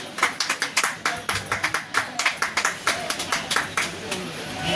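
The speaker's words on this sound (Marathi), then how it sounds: "जोरदार टाळ्या त्यांच्यासाठी." An audience at a general health check-up camp gives a round of clapping, a dense irregular patter of hands close by that runs steadily for several seconds.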